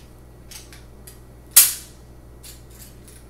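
The plastic shell of a Nerf Elite Rampage blaster is pried apart with one sharp, close crack that fades quickly, framed by a few faint rustles.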